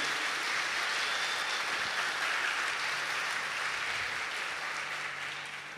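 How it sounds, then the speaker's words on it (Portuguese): A church congregation at a Mass gives a round of applause, dense even clapping that holds steady for several seconds and tapers off softly at the close. "Uma salva de palmas para essa viúva"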